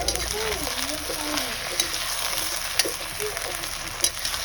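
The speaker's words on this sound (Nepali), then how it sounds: "मासु अलिअलि भुटिसकेको छ।" Local chicken meat fries in a pot over an open fire in a Palpa village, a constant crackling sizzle with scattered pops and a faint voice underneath.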